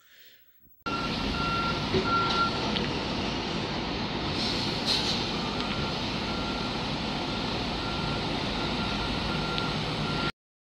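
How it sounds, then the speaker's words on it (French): Trucks arriving at a grocery warehouse loading dock sound repeated reversing beeps over a loud, steady diesel engine rumble that runs without a break and then cuts off abruptly. "2 camions arrivent en même temps."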